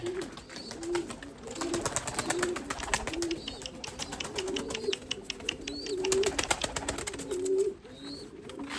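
Lemon-coloured breeding pigeons in a loft coo steadily in low, rolling calls, with repeated bursts of wing flapping and faint chirps nearby, and no talking.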